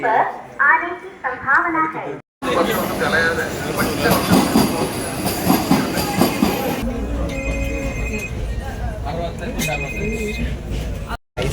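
Railway station ambience in India: a train's rumble and screeching wheels, people talking over it, and later a steady electronic chime or bell.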